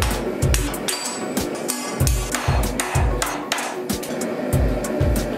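A forged steel shaft nub is hammered over washers in a steady series of sharp metallic blows, close and loud, with ringing between strikes and no talking.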